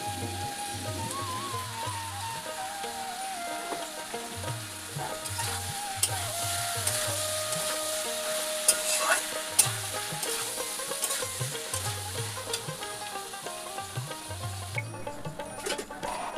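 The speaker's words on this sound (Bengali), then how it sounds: "এটা আমি ভালো করে এর মধ্যে মশলাটার সাথে মিশিয়ে ভালো করে নেড়ে নেব। এই যে দেখো দুটো ডিম আমি এর মধ্যে দিয়ে দিচ্ছি।" Two eggs frying with masala and snake gourd in a pan while being stirred, a steady hiss and crackle with spatula scrapes and taps close by, under continuous background music.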